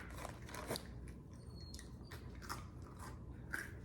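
Crunchy bites and chewing of an Oreo cookie, several sharp crisp snaps spread across a quiet indoor background, close and fairly soft with no talking.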